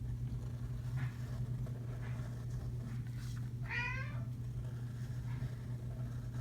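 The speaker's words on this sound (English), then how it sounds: "don't know if you could hear my cat, Sammy, meowing in the background." A single cat meow rises briefly, a little distant, over a steady low engine-like hum that runs the whole time.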